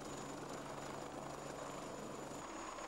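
A South African helicopter drones steadily with a constant engine and rotor hum, unbroken and at moderate distance.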